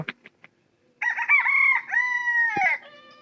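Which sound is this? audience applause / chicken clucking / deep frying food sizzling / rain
chicken clucking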